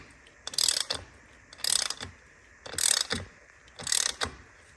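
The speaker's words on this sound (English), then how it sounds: "And just evenly tightening them up." A quarter-inch drive ratchet tightens screws on an Akrapovic titanium high-rise exhaust link pipe with a carbon piece on a BMW R NineT Racer. Four close, even bursts of rapid metallic clicking are separated by short pauses, with no talk.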